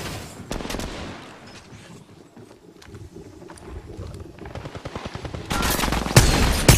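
Gunfire in the mobile shooter Apex Legends Mobile: rapid automatic bursts and single shots crackle in quick succession, loudest toward the end as several weapons fire together.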